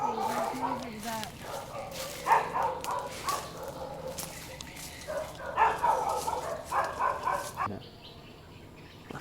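Stray dogs on a Thai mountain road bark and yip in repeated bursts, some close and sharp, others further off, with someone talking and breathing between the barks.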